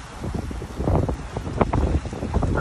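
Wind buffeting a microphone aboard a sailboat on a starboard tack in 16 to 17 knot winds with gusts to 20, moving at about 6 to 7 knots on a solo passage to Hawaii; steady rumbling gusts with surging low noise.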